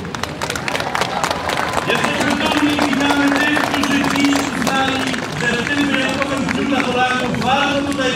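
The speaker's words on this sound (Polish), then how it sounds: "Gorące brawa dla naszych wszystkich przodków" A crowd at a Polish Constitution Day parade in Chicago applauds and cheers continuously, a dense wash of clapping and voices under music-like tones from the street event.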